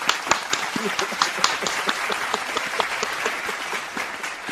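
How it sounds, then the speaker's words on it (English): Dense, steady applause from a group clapping to celebrate a wrestling podcast passing 100 episodes, with sharp individual claps popping out of a continuous wash, close and lively throughout. "Let's go ahead and clap it up for 100 plus episodes."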